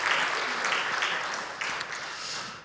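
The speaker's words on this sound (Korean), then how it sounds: "박수로 우리 격려해 주세요" Applause from a church congregation during a Sunday worship service, a dense, steady clapping that fills the room and slowly fades away, with no one speaking over it.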